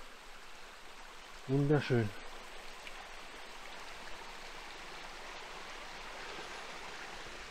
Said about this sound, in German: da ist wieder so ein kleiner Wasserfall